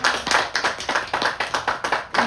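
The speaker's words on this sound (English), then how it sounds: "Give a round of applause for Scott Simpson." A smaller group claps in a rhythmic, fairly loud burst of distinct hand strikes, welcoming host Scott Simpson to a master class.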